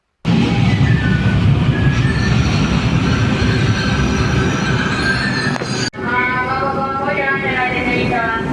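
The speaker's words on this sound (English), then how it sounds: "I went to the station and took a train back home" A passenger train riding on rails, giving a loud continuous rumble with wheel squeal and a high whine that rises into tonal squealing near the end, heard from on board.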